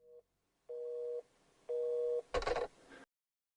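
Repeating telephone ringback tone from the horror game Hotel 626: two steady electronic beeps separated by silence, followed by a brief burst of harsh static noise, loud and clear with no talking.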